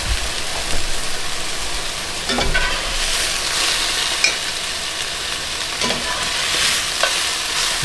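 Freeze-dried fajita chicken being heated and browned in a pan, a continuous close sizzle with repeated stirring scrapes and occasional sharp taps of the utensil, no voices.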